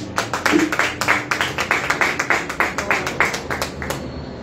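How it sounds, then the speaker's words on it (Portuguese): A church congregation claps in unison, a steady rhythmic beat of sharp, fairly close claps repeating about three times per second, with faint voices underneath. "Aplauda o Senhor."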